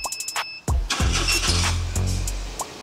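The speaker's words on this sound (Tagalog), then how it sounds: "Then, start natin yung makina natin." A few ticking clicks, then a turbocharged minivan engine cranks and catches, settling into a smooth, steady idle close by.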